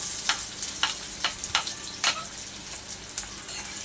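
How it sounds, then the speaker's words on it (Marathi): Onion frying with crushed garlic in a pan, a steady sizzle with regular spatula strokes scraping through it every half second or so, close and moderately loud, no talking. "कांदा सुद्धा आपल्याला अगदी गुलाबी रंगावर फ्राय करून घ्यायचा आहे"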